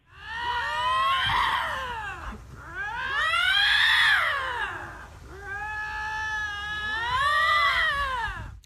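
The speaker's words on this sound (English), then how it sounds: "some lynx cats fighting" Lynx cats fighting, loud drawn-out yowls and caterwauls in four long rising and falling wails, harsh and close with no one talking.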